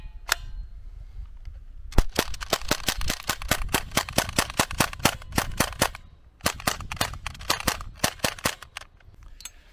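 An Umarex Mini Uzi .177 air pistol fires BBs in a rapid run of sharp snapping shots, over twenty crisp close cracks in quick succession with a short break midway.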